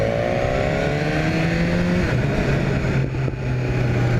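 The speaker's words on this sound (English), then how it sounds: "Listen to it pop. I love those pops." A 2018 BMW S1000R motorcycle engine drones loudly and steadily while riding, its pitch sliding up and down, with wind rush and a brief dip near the end.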